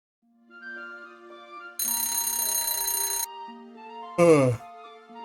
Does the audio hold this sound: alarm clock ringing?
yes